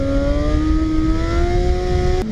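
A Harley-Davidson Night Rod motorcycle engine revs loud and close with a steady, slowly rising tone as the rider prepares to pull a wheelie, then cuts off sharply at the end.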